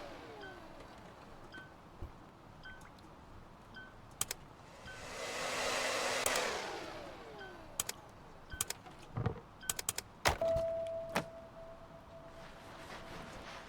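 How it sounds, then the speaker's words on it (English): A vacuum cleaner roars in a short burst of about two seconds, swelling and fading, amid scattered clicks, knocks and handling noises, with no talk. "some stuff we definitely need to use the vac for"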